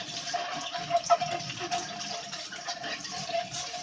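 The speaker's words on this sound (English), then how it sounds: "Rinse that out." A part of a Fridja f1900 juicer is rinsed under a running tap, a steady close gush of water with small splashy fluctuations as the piece moves through the stream.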